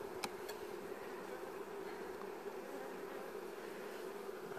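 Honey bees hum during a spring beehive inspection, a steady droning buzz from many insects close by, with a couple of faint clicks near the start and no talk.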